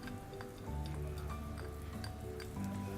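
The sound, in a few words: minced garlic frying in margarine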